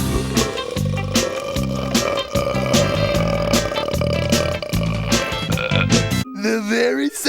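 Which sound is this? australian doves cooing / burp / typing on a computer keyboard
burp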